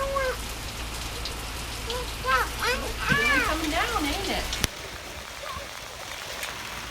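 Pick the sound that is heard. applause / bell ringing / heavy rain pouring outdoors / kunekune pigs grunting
heavy rain pouring outdoors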